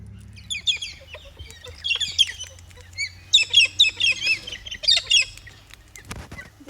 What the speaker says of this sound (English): I just want to feed the cockatoo